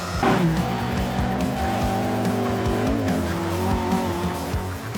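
A Mark 1 Lotus Cortina's twin-cam 1.6-litre engine screams at high revs close by on a racetrack, a sustained buzzing roar with tire squeal, loud and continuous.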